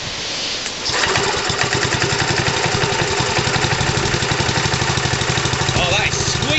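A cold Villiers Mk 15/2 engine fires up after a second of background noise and settles into a quick, even train of exhaust beats, running steadily and fairly quietly close by.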